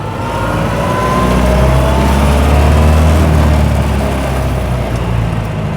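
A 1932 Austin Heavy 12/4 Windsor on the road, its engine droning loudly and steadily with a low rumble as it revs while driving.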